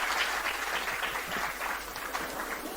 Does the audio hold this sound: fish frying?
no